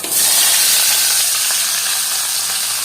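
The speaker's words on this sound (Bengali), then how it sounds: "সয়াবিনগুলো ভালো করে ভেজে নেব" Soya chunks frying in hot mustard oil, a steady close sizzle with bright hissing steam that holds loud and even throughout without pause.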